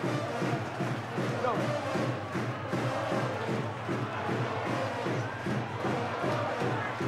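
Large rugby league crowd at a Super League elimination play-off between Leeds and Hull, a continuous distant roar of massed voices with rhythmic chanting pulses throughout.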